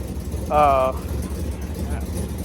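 A C6 Chevrolet Corvette fitted with a Texas Speed camshaft idles with a steady, loud low rumble throughout, briefly overlaid by a short tonal vocal sound near the start.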